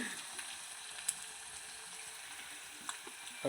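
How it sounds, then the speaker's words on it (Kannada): Onions frying in oil in a pan for a Maggi noodle recipe, giving a steady, moderately quiet sizzle that runs throughout with a few faint stirring clicks and no voices. "ಎಣ್ಣೆ ಹಾಕಿ ಈರುಳ್ಳಿ ಫ್ರೈ ಮಾಡ್ಕೊತಿದ್ದಾಳೆ."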